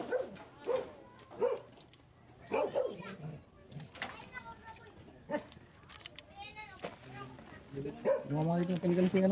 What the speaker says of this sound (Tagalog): Huwag na lang kayo tumapat sa aso para hindi magingay yung aso.